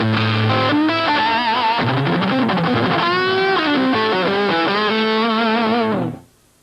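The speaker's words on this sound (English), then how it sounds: "There I'm muting almost everything on the low 3 strings and playing everything else straight. With distortion, it's even more" Distorted electric guitar plays fast lines with the low three strings palm-muted while the other notes ring straight, a steady loud stream of notes that stops cleanly near the end.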